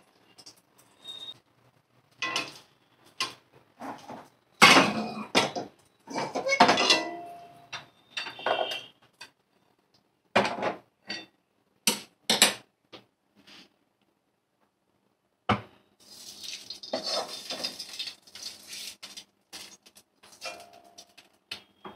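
Spoon or spatula scrapes and knocks against a kadai pan in irregular bursts of clatter separated by quiet gaps, with a longer stretch of continuous stirring near the end.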